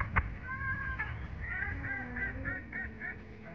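Pigeons and other birds in a park, giving short repeated calls and a low cooing line at moderate distance, with a brief sharp knock near the start and no talking.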